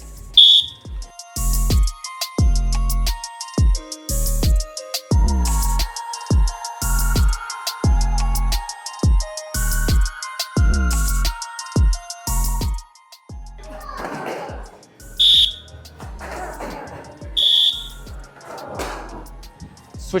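Taekwondo sparring drill with a training beep: short high electronic beeps sound a few times at intervals over loud rhythmic music and thumping beats, with brief stretches of talk.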